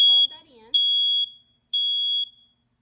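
A household smoke alarm being tested by holding its test button sounds its high piercing beeps: two long, loud electronic tones about half a second each, the first following a brief stretch of talk.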